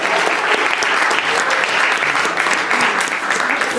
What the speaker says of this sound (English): you get a big round of applause for getting a good score